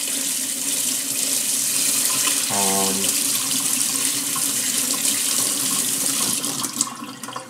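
Running tap water pours steadily over a vinegar-soaked egg being rinsed, a continuous close hiss with a brief tonal whine partway through.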